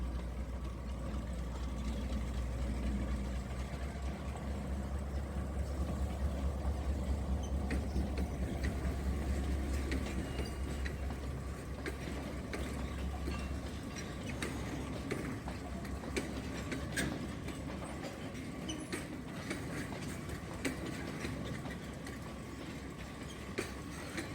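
Canadian-built diesel locomotive hauling the Badulla oil train with ten oil tank wagons near Puttalam Railgate, Sri Lanka: a steady low engine rumble with rolling wheel noise that holds fairly constant throughout, no voices.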